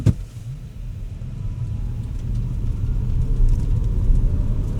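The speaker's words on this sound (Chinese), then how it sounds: "我们现在来做它的0 to 100 0到100的加速。" A Proton e.MAS 7 electric car accelerates hard from 0 to 100 km/h, giving a steady low road rumble and tyre roar that swells gradually over several seconds, with no voices.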